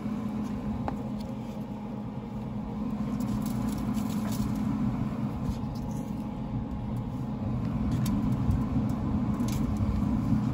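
Rain patters steadily outdoors beside a Traeger pellet smoker, a dense continuous drumming hiss with a low hum underneath and no voices.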